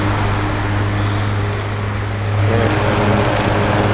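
A Mimar 12-inch table fan runs with a steady, loud motor hum, and its oscillating mechanism adds a shifting mechanical drone that swells partway through.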